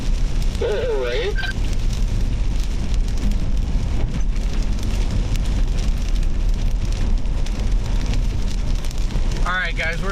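Rain falls steadily on surfaces during a storm chase in northwest Ohio, a constant dense patter and hiss throughout, with brief voices or chirps near the start and end.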